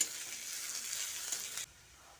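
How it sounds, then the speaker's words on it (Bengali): Onion frying in a pan while being stirred for a bitter gourd dish, with a steady, close sizzle and hiss that cuts off abruptly near the end, leaving quiet room tone. "পেঁয়াজটা দিয়ে খানিকক্ষণ একটু নেড়ে চেড়ে ভেজে নিচ্ছি।"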